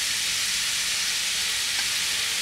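Diced onion and bell pepper frying in oil in a pan, a steady, dense sizzling hiss throughout, loud and close, no voices.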